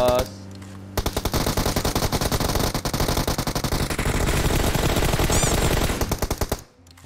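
Rapid automatic gunfire from the video game PUBG Mobile, a dense, sustained burst of shots lasting about six seconds, loud and close, with sharp repeated cracks that stop abruptly.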